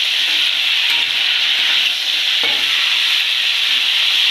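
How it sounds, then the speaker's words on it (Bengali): Drumstick (sajna) stalks fry in hot oil while being stirred, making a loud, dense sizzle up close that runs continuously, with one brief scrape of the stirring utensil partway through. "তেলটা গরম হয়েছে, এই ডাঁটাগুলো দিয়ে দিলাম। ডাঁটাগুলো দিয়ে ভালো করে নাড়বো"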